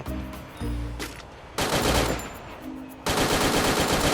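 Rapid bursts of gunfire crack out in Free Fire, loud and close in several sustained volleys separated by brief pauses, the later bursts heavier and denser.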